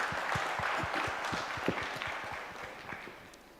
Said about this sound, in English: For that itself, again, we deserve a clap.